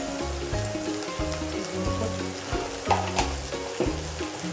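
Steady sizzle and crackle of dumpling filling frying with soy sauce in a hot pan, close up, with a tonal melody playing underneath.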